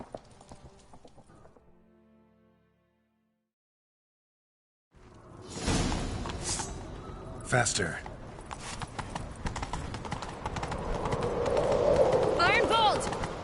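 Horse galloping in the PS5 Game of the Year edition of The Witcher 3, a steady run of hoofbeats with rushing movement that starts after a near-silent pause and builds, with brief spoken voices over it.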